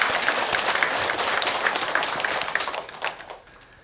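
Listeners at a Buddhist monk's lecture at a temple in Ulsan break into applause, dense clapping with some distinct individual claps, which thins out and fades toward the end.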